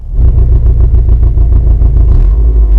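Deep, loud rumble of a 2018 Subaru WRX STI's 2.5-litre boxer engine, with unequal-length exhaust headers giving a throbbing, uneven exhaust beat, steady throughout with no voices.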